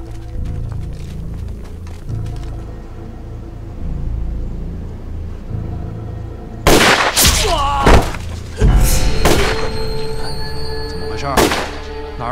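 Gunfire in an anti-Japanese war film with Japanese tanks and Eighth Route Army fighters: a low rumbling background gives way to several sharp, loud shot bursts in quick succession toward the end.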